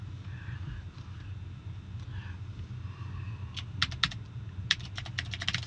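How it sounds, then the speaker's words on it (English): A computer keyboard clicks in short quick bursts of typing near the end, over a low steady background hum. "Lily, I cannot type looking through you."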